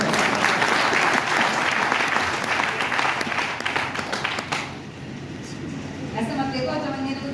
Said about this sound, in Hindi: एक बार तालियां तो बजा दो